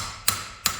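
Two sharp metallic hammer taps strike the rear axle hub of an Iveco 75E15 horsebox, evenly spaced and close.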